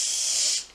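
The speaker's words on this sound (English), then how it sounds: "you gotta spray your shoes. And this is Lysol." A short blast of Lysol disinfectant spray aimed into shoes, a close, bright hiss lasting under a second before tapering off.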